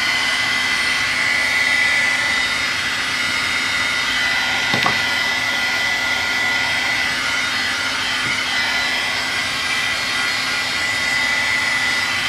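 A hair dryer blows hot air to dry gesso painted on an aluminum metal box, giving a loud, continuous whooshing whir with a steady motor hum throughout.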